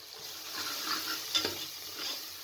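Mutton keema with spices sizzles quietly in a pan, a steady soft frying hiss broken by a brief scrape of the stirring spoon against the metal midway.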